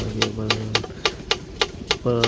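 A wind-driven spinning bird scarer in a rice field clacks in a steady rhythm of about seven sharp ticks. A faint tonal hum is heard with them, and it swells at the start and end.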